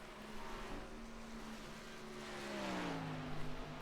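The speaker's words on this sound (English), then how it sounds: "I think as I just heard the engine" A distant race car engine at Pocono drones and shifts pitch as it passes, a faint steady roar swelling slightly near the end.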